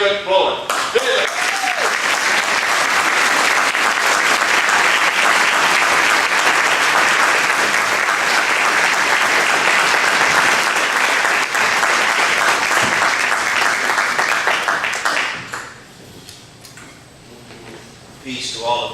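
Loud sustained applause and cheering from a church-event audience welcoming Reverend David Bullock, a dense continuous roar of clapping for about fifteen seconds before it drops away, leaving a quieter room with faint scattered sounds.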